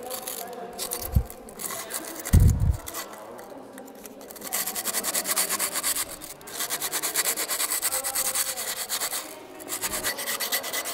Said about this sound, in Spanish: A continuación tendremos que lijar los bordes para que no nos cortemos.